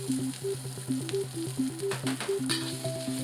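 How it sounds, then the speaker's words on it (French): Garlic and ginger stir-fry in olive oil in a wok over high heat, a steady close sizzle with occasional louder crackles, while a plucky melodic tune runs underneath. "Le tout part au wok avec un peu d'huile d'olive à feu vif."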